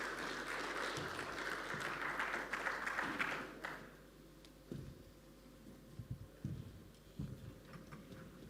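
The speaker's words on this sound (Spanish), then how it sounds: "los recibimos por supuesto con un gran aplauso" An audience applauding to welcome a panel at a mining conference, clapping for a few seconds that stops abruptly, followed by faint scattered knocks and handling sounds.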